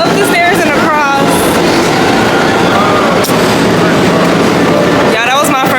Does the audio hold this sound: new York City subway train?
yes